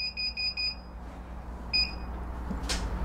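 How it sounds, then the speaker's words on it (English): Keypad beeps from the switch pad buttons on a Laurel drop-shelf vending machine: a rapid run of short, clear electronic tones, then a pause and one more beep, over a quiet hum. "If you touch a button and there's no beep, that would indicate something is wrong with the switchpad."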